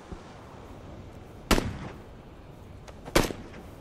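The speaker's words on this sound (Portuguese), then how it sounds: "Eles que tacaram a granada, né?" Two sharp, loud explosive bursts about a second and a half apart, from grenades going off in PUBG (Battlegrounds), each with a short rumbling tail and no talk in between.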